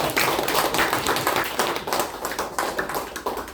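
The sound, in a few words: audience applause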